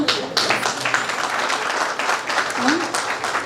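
A crowd applauds during a public speech in Kalaburagi, the clapping steady and dense for the whole stretch, with a voice briefly rising over it.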